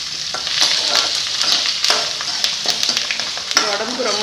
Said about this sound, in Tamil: இப்போ பாருங்கள், பெரிய வெங்காயம் போடுறேன். பச்சை மிளகாய், கருவேப்பிலை போட்டு